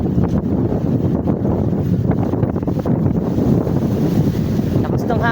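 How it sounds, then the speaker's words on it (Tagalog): Strong wind buffets the microphone outdoors on a roadside, a loud, continuous rumbling roar with gusty swells throughout and faint speech briefly audible within it. "Lakas ng hangin guys."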